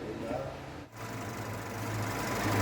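A warm Renault Megane F4R engine with a variable pulley runs at idle with its belt turning, giving a steady, diesel-like knocking hum close by that swells slightly toward the end, with a voice briefly speaking over it.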